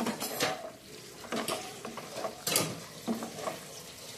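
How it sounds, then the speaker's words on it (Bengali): Prawns in a pan with tomato, soy and green chili sauce being stirred, a spoon scraping and clinking against the pan in uneven strokes over a faint sizzle, close and quiet, no talking. "এটাকে খুব ভালো করে নাড়াচাড়া করতে হবে"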